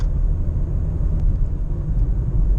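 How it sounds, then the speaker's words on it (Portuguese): A Fiat Palio Essence 2013 with a 1.6 16V E-torque engine and manual gearbox idles smoothly, giving a steady low rumble with a faint high whine, even and continuous throughout. "o motor está rendendo de forma perfeita, o motor está liso, suave"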